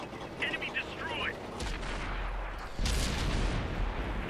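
Heavy cannon blasts from an M6A2E1 tank in a tank battle video game: two booming shots a little over a second apart, each with a sharp onset and lingering low rumble, over a busy, noisy battle background.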